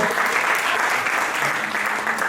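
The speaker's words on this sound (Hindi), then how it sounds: "एक बार इनके सम्मान में जोरदार तालियां ठोक दो।" At a Hindi poetry gathering honouring a woman poet, the audience claps loudly and continuously, a dense, even roar of many hands with no voices.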